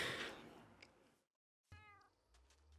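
Two soft meows from a cat in Minecraft, one fading out and another after a short silence, clear and close with a faint background hum.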